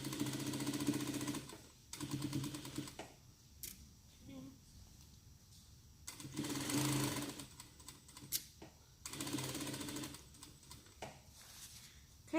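A sewing machine stitching the seams of a baby's African-style dress runs in several loud bursts of a few seconds each, separated by short pauses, up close with no talking.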